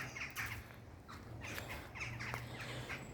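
Birds call outdoors at Ironbridge in Telford, with a crow cawing in short repeated bursts and other faint chirps, soft and somewhat distant over quiet background rumble.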